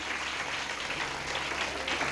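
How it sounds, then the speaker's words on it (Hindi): Steady applause from a gathered crowd thanks Didi at a birthday celebration, a dense even wash of clapping with no voices above it. "तालियों से एक बार शुक्रिया अदा हो जाए"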